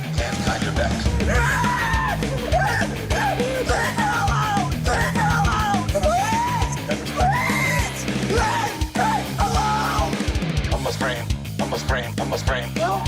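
Loud yelling and screaming during a police arrest, with officers shouting commands and a struggling person crying out in overlapping voices, dense and continuous throughout.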